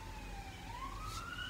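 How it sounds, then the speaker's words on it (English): A siren wails past outside, its pitch sweeping and rising in a steady tone over a low traffic rumble, at moderate distance with no talking. "Sorry for the siren."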